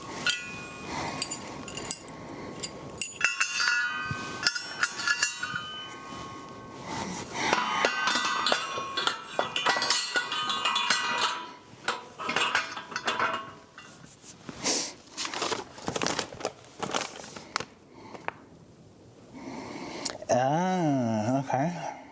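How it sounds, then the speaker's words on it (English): Eye bolts go into the metal jack plate of a cheap 12-ton shop press, making scattered metallic clinks, clanks and scraping rattles that come and go in bursts across a long stretch of handling. "Insert the eye bolt into the holes in the jack plate."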